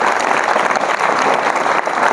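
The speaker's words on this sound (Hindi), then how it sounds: "ताली बजाओ।" Schoolchildren at an intermediate college clap together in a dense, steady burst of applause during a traffic awareness session, loud and close, continuing evenly throughout without talk.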